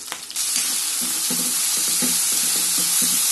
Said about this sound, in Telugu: ఇది కొంచెం ఫ్రై అవ్వాలండి, ఒక 2 minutes ఫ్రై చేద్దాము